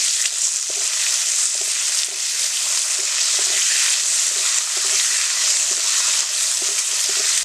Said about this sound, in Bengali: ডাটা একটু ভাজতে হবে